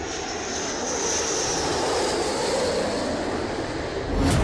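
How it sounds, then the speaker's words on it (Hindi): A B-1 bomber's jet engines give a loud, steady roar that holds evenly for several seconds and swells slightly at the end, with no voices. "B-1 बॉम्बर इस मिशन के लिए ब्रिटेन पहुंच चुका है।"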